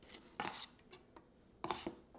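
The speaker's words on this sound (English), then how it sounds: "you want to start by chopping up an onion" An onion is chopped on a cutting board with a knife, two short bursts of quick close cuts separated by a few faint taps, quiet, with no talking.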